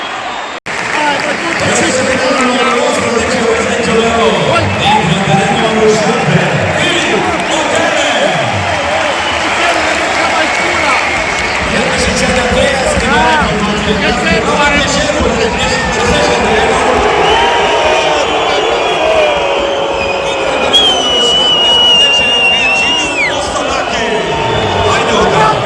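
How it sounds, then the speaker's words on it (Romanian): Crowd applause and cheering fill a Romanian football stadium at Arad, a dense, loud wash of sound that stays continuous throughout, with a commentator talking over it. "L-au și aplaudat oamenii, câțiva acolo, la sectorul D."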